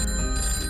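A telephone ringing in a Hindi farm-advice programme promo, a steady electronic ring holding throughout under a faint bed of background music, with no talking.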